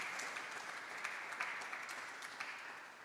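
Council members applauding in a council meeting, a continuous patter of many hands clapping together at moderate volume for about three seconds.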